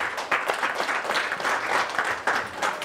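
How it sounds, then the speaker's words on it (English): An audience at a London Hilton charity gala for asthma causes claps in a dense, lively round of applause, close and continuous with uneven surges. "Please give her a round of applause."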